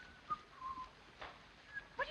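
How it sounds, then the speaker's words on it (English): A person whistles a few short, faint tonal notes in a quiet room, with soft background noise between them. "Oh, do stop whistling."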